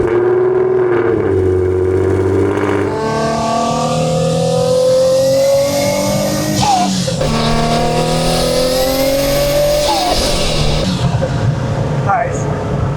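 A Nissan 350Z with rear-mounted turbos and open wastegates revs up and down through several gear pulls, loud and close, with a turbo whistle and pops between shifts.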